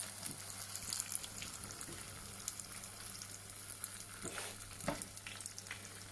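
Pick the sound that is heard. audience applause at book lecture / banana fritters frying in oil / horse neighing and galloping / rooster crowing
banana fritters frying in oil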